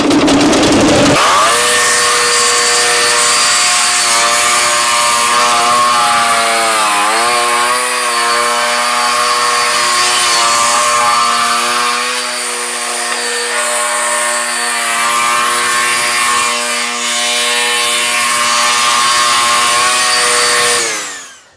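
A Turbosawmill chainsaw blade makes a deep vertical cut into wood, a loud, close, continuous engine whine that dips briefly under load and runs for about twenty seconds before stopping.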